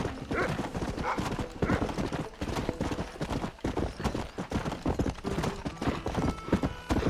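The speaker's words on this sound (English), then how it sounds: "There's my horsey." A horse gallops in Red Dead Redemption with a fast, continuous clip-clop of hooves, loud and close, with a whinny near the start and no talk over it.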